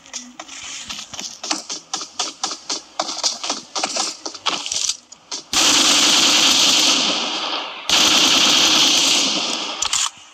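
Automatic gunfire in the mobile battle-royale game PUBG Mobile: first a run of rapid separate shots, then long dense unbroken bursts of fire with a short gap between them, loud and close, no voices.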